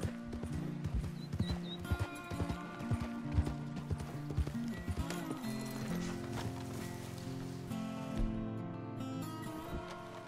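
Galloping horse hooves in Red Dead Redemption 2 drum in a steady, driving rhythm over a dense game soundscape, with a brief whinny early on and no one speaking.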